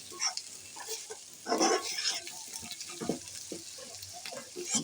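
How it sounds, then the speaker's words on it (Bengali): Puti fish frying in hot oil with onions, a soft crackling sizzle running throughout with a few louder bursts of spatter and stirring, close and fairly quiet, no talk. "তেলের মধ্যে ভেজে একটু নরম করে নেব"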